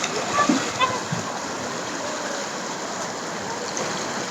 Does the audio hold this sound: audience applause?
no